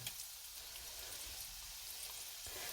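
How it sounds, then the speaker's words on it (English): Faint, steady sizzling and crackling of chicken bites frying in hot oil in a frying pan, a soft continuous hiss with scattered pops and no talking. "Now, I'm doing it in a frying pan."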